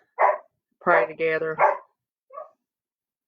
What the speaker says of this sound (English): excuse my dog, I hear him barking